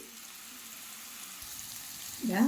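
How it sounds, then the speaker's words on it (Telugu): Bitter gourd pieces fry in a pan with a quiet, steady sizzle and light crackle, joined by a brief louder stirring or scraping sound near the end. "కాకరకాయ ముక్కలే కనిపిస్తూ ఉండాలి అయ్యో మాడిపోతాయి అన్నట్టు ఓకేనా ఇదిగోండి వేగుతూ ఉన్నాయి"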